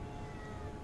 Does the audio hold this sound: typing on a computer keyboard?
no